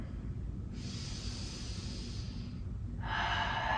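Slow, deep breaths during a gentle chair yoga session for hips and lower back, drawn in steadily as a soft airy hiss that swells toward the end, close and alone with no talking.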